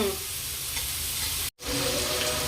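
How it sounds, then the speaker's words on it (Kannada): Chopped onion and tomato fry for egg bhurji in a pan, giving a steady, close crackling sizzle that cuts out for a split second midway and then carries on. "ಈಗ ಟಮಾಟಿನೂ ಹಾಕೊಂಡ್ಬಿಡುಣ್ರಿ ಚಂದ ಫ್ರೈ ಆಗಲಿ ಅದು"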